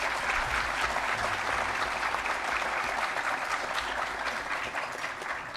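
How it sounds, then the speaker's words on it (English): A board meeting audience applauds a group of Boy Scouts, sustained, even clapping from a crowd indoors, held at a steady level and easing slightly at the end. "Let's give them a big round of applause."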